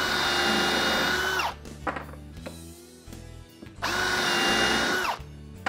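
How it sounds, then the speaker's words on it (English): A power drill with a countersink bit bores holes into a scrap 2x4, whining loudly in two long runs separated by a quieter pause of rattling and knocking. "I'm just gonna drill some holes in them."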